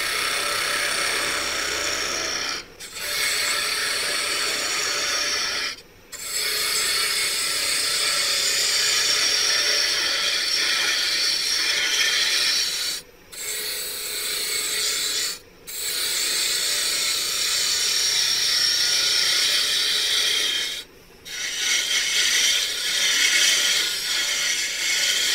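A wooden mason jar vase being hollowed on a lathe gives a steady rasping, whirring cut that runs for long stretches, broken by a few brief pauses, close and loud.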